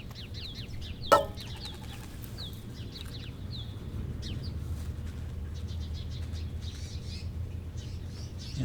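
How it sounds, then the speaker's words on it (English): Chickens at a Tucson home raise alarm calls: bursts of high, thin cheeping repeat throughout over a steady low background rumble, with one sharp knock near the start. "Yeah, the other birds are upset about something. Yep, you can hear the alarm."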